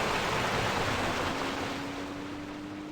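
A waterfall on the Alaska Delta Junction map in Farming Simulator gives a steady, broad rushing wash of water that stays constant and fairly loud throughout, with no talk.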